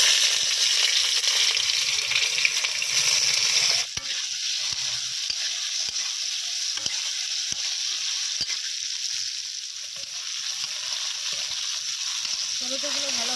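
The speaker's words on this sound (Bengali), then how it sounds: "কাঁচা টমেটোটা আগে ভেজে নেব" Green tomatoes fry in a pan: a bright, continuous sizzle that steadies after a few seconds, with regular ladle taps as they are stirred.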